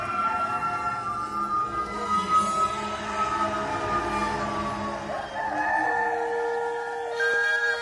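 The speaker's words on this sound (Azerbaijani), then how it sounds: "Həmin anda xoruz banladı." A rooster crows nearby in one long drawn-out cock-a-doodle-doo, loud and clear over a quiet background, with no one speaking.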